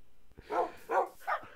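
Three short, evenly spaced barks from a dog in the Minecraft video game, close and clear with nothing else behind them.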